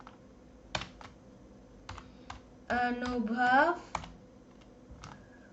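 Scattered clicks from a computer keyboard being typed on close by, a handful of separate keystrokes with someone speaking briefly in the middle.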